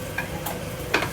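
Pork stir-frying in a pan, with a continuous close sizzle and a few brief scraping stirs of the utensil, no talking.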